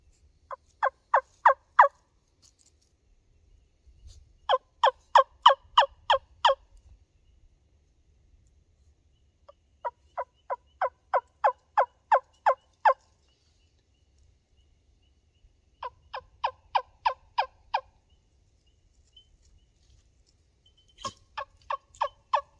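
Sharp, rapid yelping turkey calls from a goose wingbone caller, played in short bursts of several notes separated by pauses.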